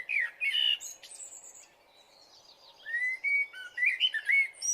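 Chirping bird-like tweets voiced by a cartoon crow mimicking a sparrow's call: thin, bright whistled chirps in short bursts, a quiet gap, then a quick run of twittering notes, clear and alone.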